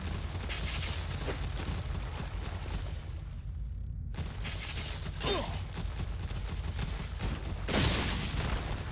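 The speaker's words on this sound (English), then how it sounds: "Nobody is, so flash grenade time." Flash grenade detonations in Resident Evil 4 on PS4, with bright bursts of noise that recur over a steady low rumble of game audio and gunfire-like cracks.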